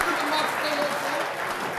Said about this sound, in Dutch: Ze gaan staan, geef ze een daverend applaus.